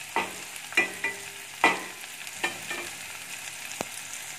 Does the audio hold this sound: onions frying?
yes